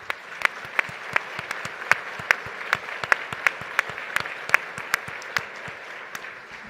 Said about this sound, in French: On peut, je pense, applaudir cette bonne nouvelle.